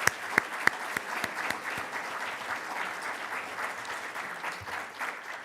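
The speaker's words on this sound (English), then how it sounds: "Let's give all of those one more great round of applause." Audience applause at a Mulerider Athletics Hall of Fame ceremony, a dense sustained patter of many hands filling a hall, opening with a few louder close claps, with no talk over it.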